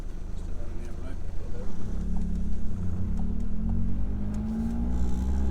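A Mini car's engine drones steadily in second gear on a street drive, a low continuous hum with a rising tone and some wind buffeting, under occasional talk inside the car.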